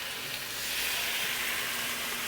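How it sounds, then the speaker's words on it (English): Spinach sizzling in a hot pan on the stove while cooking down, a steady, dense hiss that holds at an even level throughout, close and fairly loud, with no voices. "Now this is gonna sizzle like crazy."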